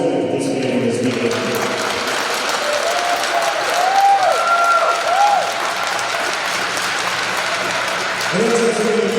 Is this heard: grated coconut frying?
no